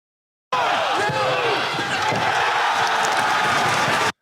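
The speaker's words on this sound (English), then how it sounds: "A lariat false finish that had the entire crowd popping" A packed wrestling arena crowd roars loudly and continuously after a near-fall from a lariat, a dense wall of cheering and shouting that holds steady throughout.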